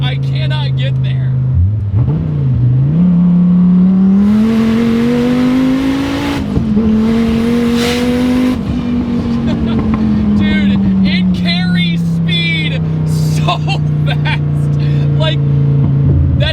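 A 1400-horsepower twin-turbo Dodge Viper accelerates hard, its loud engine droning up through the revs, dipping at a gear change, then holding a steady roar with wind and turbo noise around it as people talk.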